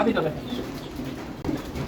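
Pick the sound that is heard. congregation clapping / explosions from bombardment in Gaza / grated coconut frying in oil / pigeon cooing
pigeon cooing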